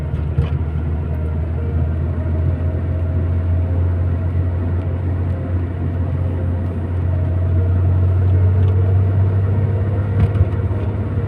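Steady low engine drone of a Porsche 911 3.2 with G50 gearbox running on E85 ethanol, cruising gently in third gear through a small roundabout in everyday traffic, constant and even throughout.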